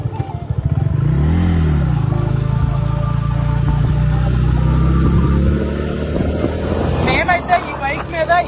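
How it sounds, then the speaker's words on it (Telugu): A Bajaj Freedom 125 CNG motorcycle carrying two riders, about 230 kg together, labours up a ghat road. Its engine drones loud and steady close by, and wind rushes across the microphone. "అసలు సిఎన్జి బైక్ పికప్ ఎలా ఉంటది, ఈ ఘాటి ఎలా ఎక్కబోతుంది"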